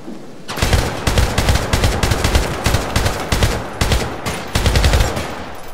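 Loud, close bursts of rapid automatic gunfire in the video game Syndicate (2012), several back-to-back volleys with brief gaps between them, filling the whole stretch without any speech.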